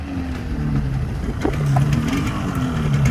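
A Yamaha RD 350 two-stroke motorcycle engine drones and revs with a rising, buzzing tone over a few seconds, moderately loud and growing slightly stronger toward the end.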